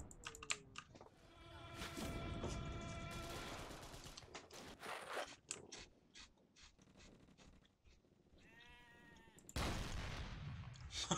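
Goat bleating in the dinosaur-themed World War II shooter Dino D-Day, a wavering, stuttering cry around the middle of the clip amid game sounds, clicking and bursts of gunfire.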